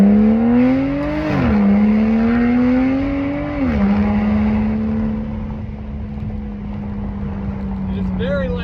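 Aston Martin fitted with a new exhaust, revved twice with loud rising and falling engine roars, then settling into a steady, deep, close idle rumble.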